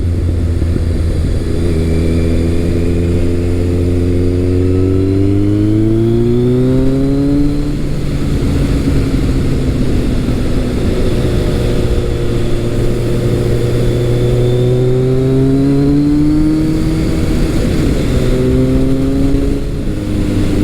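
A Kawasaki ZRX1200R motorcycle accelerates hard through the gears, its engine note climbing in pitch, dropping at each shift and rising again, loud and close for the whole stretch with no voices.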